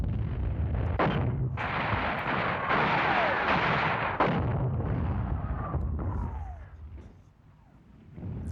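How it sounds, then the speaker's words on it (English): Heavy gunfire and artillery pounding a bunker in a wartime newsreel, a dense roar of repeated booming shots and blasts that rumbles on, then thins out into fading echoes near the end. "Opening fire on the bunker."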